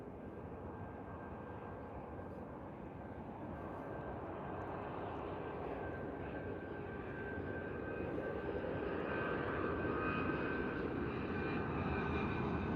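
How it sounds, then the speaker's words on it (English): United Boeing 757-300 jet arriving low from Honolulu, its engine roar swelling gradually from a distant rumble to a louder, nearer drone over several seconds, with no talk. "Flight coming in from Honolulu."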